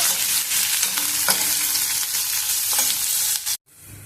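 Pumpkin curry with onion and green chillies fries in a pan, a loud, even sizzle with light stirring scrapes that cuts off abruptly near the end.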